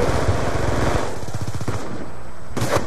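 Rapid automatic gunfire from the Call of Duty Black Ops 2 multiplayer match on the Nuketown map, with dense bursts of shots up close followed by a sharper burst near the end.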